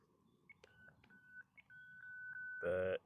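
A Dogo home phone gives short dialing beeps and sustained tones, then ends in a louder, longer dual-tone burst, all close and clear.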